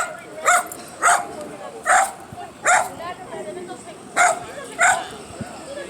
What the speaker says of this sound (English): Oh, those dogs over there.